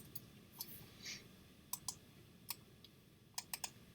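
Scattered keystrokes click on a computer keyboard while a search is typed, sparse quiet taps at first, then quicker bursts of several keys near the end, with no voice.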